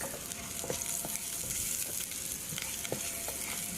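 Garlic fries in oil in a pan for a Chinese-style beef and broccoli stir fry, a dense, close, continuous sizzle with small crackling pops throughout.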